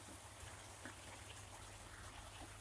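Steady rain falls on the roof of a house, a dense, even patter with scattered individual drops standing out, continuous and moderately faint with no voices.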